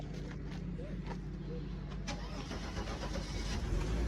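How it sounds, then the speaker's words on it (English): A vehicle engine cranks and catches at a police towing auction lot, a rough low rumble close by that settles into a running idle, with faint background noise around it. "That is not the truck that you heard starting up."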